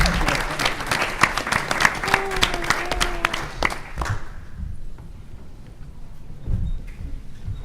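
Audience applause for a congressional panel at a transportation policy session, loud dense clapping for about four seconds that then fades to sparse claps and room noise.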